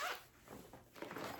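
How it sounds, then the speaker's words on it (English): A zipper on a bag is worked back and forth with a few faint, rasping pulls, close but quiet. "I'm having issues with the zipper on this one."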